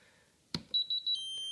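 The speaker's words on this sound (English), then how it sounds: "You will hear 2 beeps" A broadband click, then three short high electronic beeps in quick even succession from a radio-control transmitter, followed by a steady high tone, near and clear.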